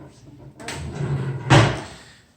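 A kitchen drawer or cupboard slides and shuts with a firm knock, close by, with a voice talking around it.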